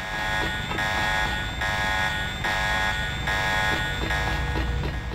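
A harsh electronic alarm blares in the video game Deus Ex, a loud, continuous buzzing tone pulsing in rapid regular beats throughout, with no talk over it.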